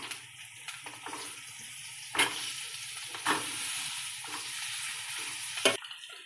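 Egg curry frying in a pan as eggs are added one at a time, with a steady broadband sizzle broken by a few sharper bursts of hissing and spattering. No one speaks.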